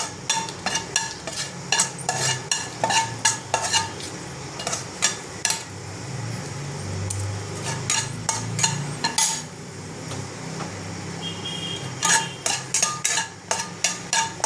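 Dried red chillies go into hot oil for tempering, giving a low sizzle under frequent sharp metallic scrapes and taps of a spatula against the pan, in bursts with short pauses.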